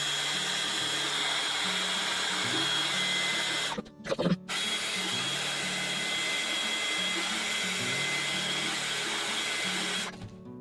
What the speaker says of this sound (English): let's get the heat gun onto this and get it dried just a little bit quicker